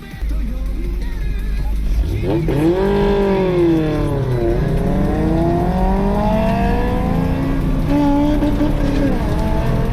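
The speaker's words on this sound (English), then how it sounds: "I couldn't hear my own engine over the screams of VTEC" A high-revving Honda VTEC car engine screams and climbs through the gears during a mountain touge run, its pitch sweeping up and down loudly and close, with a steady drone beneath.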